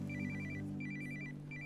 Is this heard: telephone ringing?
yes